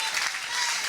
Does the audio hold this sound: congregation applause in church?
yes